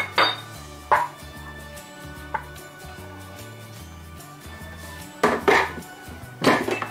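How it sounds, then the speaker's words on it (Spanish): Chopped vegetables are dropped into a Thermomix jar, giving a few sharp clinks and clatters spread out over steady background music. "Ahora lo que hacemos es introducir las verduras en el vaso de la Thermomix"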